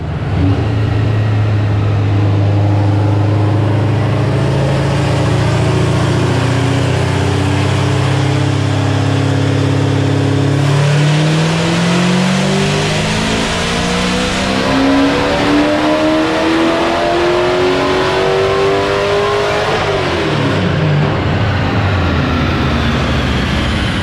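A boosted 383 small-block Chevy engine in a 1966 Chevelle makes a full pull on a dyno, a loud continuous roar climbing steadily in pitch through the revs before dropping off near the end.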